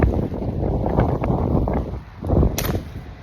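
Strong gusty wind buffeting a windproof umbrella in the rain, a continuous loud rushing roar with irregular flaps and thumps of fabric close to the microphone.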